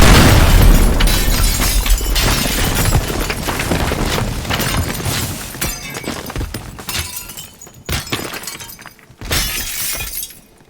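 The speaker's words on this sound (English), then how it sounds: "Seeing as how I'm small, this explosion won't be too big." Destruction in the voxel game Teardown: a loud, sustained crashing roar of shattering glass and collapsing debris, with bursts of breaking and rumbling that fade and flare again over about ten seconds.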